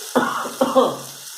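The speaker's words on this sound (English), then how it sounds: "I will go ahead and add some water to it" Water poured into a hot cooking pot while making rasam gives two short, loud sizzling bursts close by that fade quickly.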